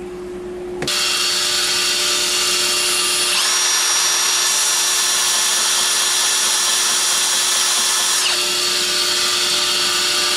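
A loud, steady high-pitched power-tool whine runs close while rough scratches are sanded out of a folding knife blade, the pitch shifting slightly midway and holding without pause, with no talk.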